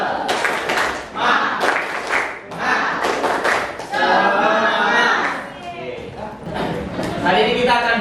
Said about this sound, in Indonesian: aku minta tepuk semangat